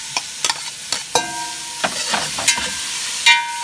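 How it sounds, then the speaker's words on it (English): Ground beef dropped into a pan of translucent onions for beef lasagna, frying with a close, lively sizzle broken by sharp clicks and scrapes of stirring. "And, let's put now the beef, ground beef."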